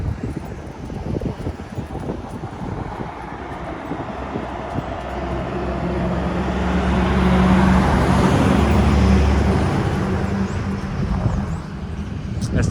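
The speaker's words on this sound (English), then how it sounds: "For being a small downtown, these people drive fast." Cars driving fast along a small-town downtown street, a broad rushing traffic roar that swells as a vehicle passes close around the middle, then eases, heard outdoors with steady background hum.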